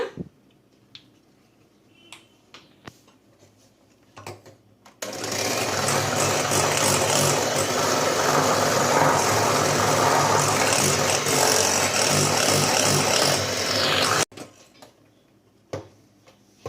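An electric beater whips eggs and sugar to a foam for a Swiss roll cake, a loud, steady motor whir running close for about nine seconds. Light clicks and taps come before and after it.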